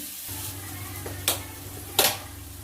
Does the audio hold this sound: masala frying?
yes